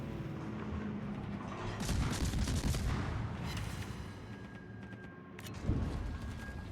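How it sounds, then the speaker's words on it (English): Warship guns fire in the World of Warships naval video game, a dense rumbling barrage of booming shots with a sharp blast near the end, set against a continuous noisy battle backdrop. "I feel confident I can finish him with my guns now"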